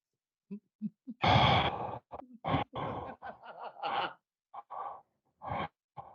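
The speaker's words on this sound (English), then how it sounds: "all you hear is the breathing" Heavy, irregular breaths close to the microphone, rasping inhales and exhales in uneven bursts with short pauses between them.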